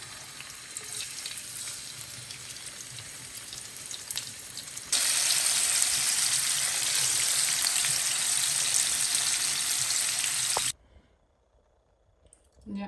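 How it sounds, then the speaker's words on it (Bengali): Rohu fish pieces fry in oil with a steady, close sizzle that swells louder partway through, then cuts off abruptly near the end, leaving quiet. "রুই মাছ ফ্রাই করবো"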